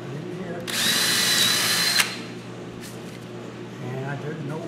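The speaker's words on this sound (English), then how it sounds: "what I'm going to do is just drill a lot of holes" A power drill whirs for just over a second, close and loud, then stops; a person talks quietly around it.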